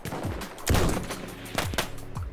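Kolibri pistol fire in Battlefield 1, several sharp small-calibre shots in quick irregular bursts with other gunfire mixed in, close and punchy amid game noise.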